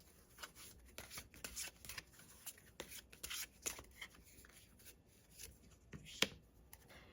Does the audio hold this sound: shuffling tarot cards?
yes